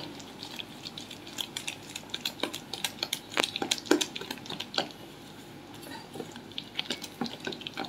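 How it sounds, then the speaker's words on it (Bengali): Lentil batter for dal fritters is beaten vigorously in a bowl, producing a fast, continuous run of wet slapping and utensil clicks that peaks midway and keeps going with no talk. "এইরকম করে ভালো করে ফেটা নেব।"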